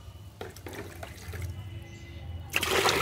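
Water pours into a container of liquid fertilizer made from mustard cake, a rushing, splashing stream that builds over a few seconds and grows loud and close at the end.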